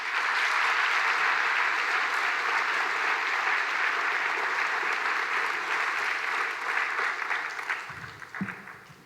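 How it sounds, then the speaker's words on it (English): Sustained round of applause from a graduation ceremony crowd, dense and steady for about eight seconds before tapering off near the end. "Can we get a quick round of applause for all those wonderful people?"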